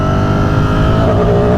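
A tuned Ducati Streetfighter V4S motorcycle engine pulls hard under throttle in third gear, a loud, continuous raspy roar with rising pitch held steady through the whole stretch, no talking over it.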